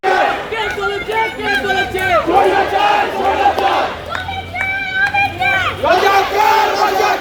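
Large crowd of protesters at a street march for quota reform chanting slogans in call-and-response unison, loud and close, rhythmic shouted phrases repeating over a constant roar of voices.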